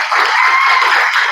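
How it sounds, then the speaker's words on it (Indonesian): Applause from a class of junior high students at a school digital literacy seminar, a dense, steady clatter of many hands clapping at once throughout, fairly close and loud. "Ya, tepuk tangan."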